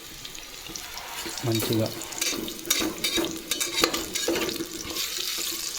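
Cut potatoes frying in hot oil as they are stirred and mixed, with crackling sizzle, scraping spoon knocks and a few clatters while someone talks over it.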